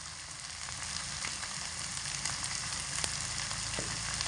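Potatoes seasoned with salt and turmeric fry over medium heat, giving a steady, even sizzle close by that runs continuously without any voices.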